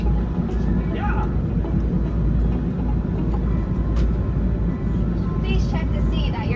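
An Airbus A330 jet engine spins up for start at Tokyo Haneda before a flight to Kona, a steady loud roar heard from inside the cabin with faint chatter and thin whining tones above it.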